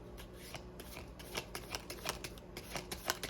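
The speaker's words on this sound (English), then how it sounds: "please excuse me if my shuffling seems a bit drabby" A deck of tarot cards being shuffled by hand, with soft repeated riffles and taps in an irregular rhythm, fairly quiet and close.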